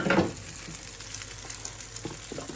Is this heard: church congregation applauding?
no